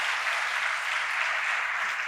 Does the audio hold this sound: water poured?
no